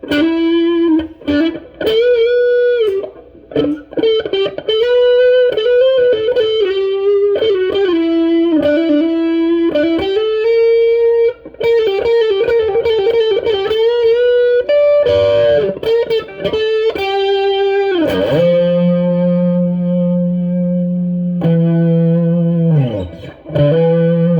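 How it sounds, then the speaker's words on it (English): Piercing, distorted electric guitar lead through a Marshall Valvestate 8100 amp, playing loud classic-rock lines with sustained bending notes and effects, close and continuous with no talking. "We are getting some like piercing lead tones"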